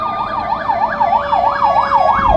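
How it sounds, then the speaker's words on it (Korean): Ambulance siren in Seoul city traffic, a loud, close wailing tone that sweeps rapidly up and down in a regular repeating cycle, heard alone over low traffic rumble. "아니 오늘 앰뷸런스 진짜 많이 다닌다"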